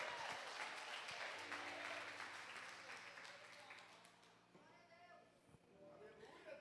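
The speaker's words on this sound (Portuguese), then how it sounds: "Se você crê nisso, aplaude ao Senhor" Church congregation applauding at a missions service, a broad wash of many hands clapping that thins and fades toward the end, with a voice and a held tone audible beneath.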